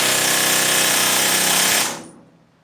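A pneumatic rivet gun hammers rivets into a 7.5 gauge railroad car, a loud, fast, continuous rattling burst up close that cuts off abruptly near the end, leaving a brief fading ring.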